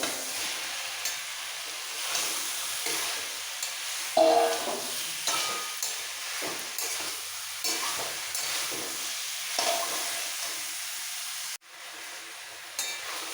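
Fried potato, pointed gourd, pumpkin and soybean chunks being stirred into spice masala in a pan, a steady sizzle broken by repeated scraping stirs of the spatula, with one louder clatter partway through.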